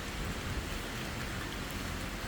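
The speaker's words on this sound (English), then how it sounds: "Walking around out here in the rain." Steady rain falls at a hot springs in Ranong, Thailand, a continuous broadband hiss that stays even and close throughout, with no voices.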